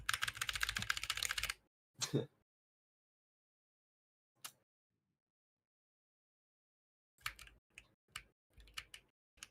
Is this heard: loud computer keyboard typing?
yes